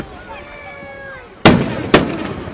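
Fourth of July fireworks burst in two sharp, loud booms about half a second apart at an outdoor display in West Allis, Wisconsin, with a fading whistle-like tone and crowd murmur before them.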